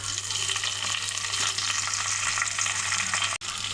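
Mustard seeds, red chili and curry leaves sputter in hot oil with a close, constant crackling sizzle and a low steady hum behind it, broken by a brief dropout near the end.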